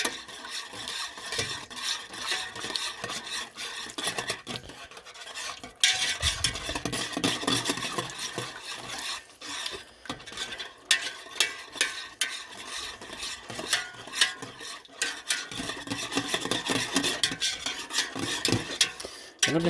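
A spoon scrapes and stirs chuck roast drippings thickening in a pan, with steady scratchy strokes and a soft sizzle running throughout, close and moderately loud, with no voice.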